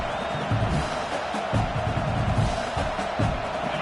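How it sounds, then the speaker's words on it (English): Home crowd at an Oregon vs Michigan college football game, a dense, steady roar of many voices cheering and shouting that fills the whole stretch with no break. "how nice is it to have the home crowd going absolutely bananas"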